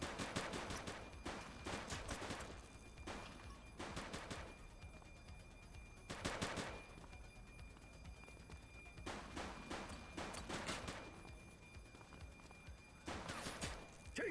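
Video game cutscene from The Precinct: bursts of rapid gunfire come in several distinct volleys, separated by quieter gaps, sounding fairly close and loud.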